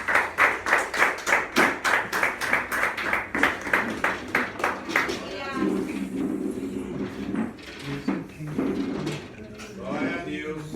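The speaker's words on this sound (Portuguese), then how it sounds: "Por favor, aplauda o Senhor por essas vidas." A church congregation claps in a fast, steady unison rhythm for about five seconds, then the beat breaks up into scattered clapping under voices and singing during a worship service.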